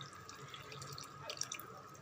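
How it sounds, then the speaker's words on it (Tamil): Strained tamarind water poured into a pot of boiling South Indian curry, a steady splashing pour with faint bubbling, close and moderately quiet, with no talking. "இதுலேயே இந்த புளி தண்ணி நல்லா வடிகட்டி"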